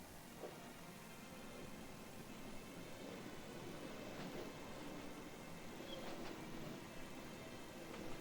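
Passenger train bound for Rostov, heard as a steady broadband rumble and hiss of rolling stock that holds at an even level throughout, with faint clanks rising briefly above it and no voices.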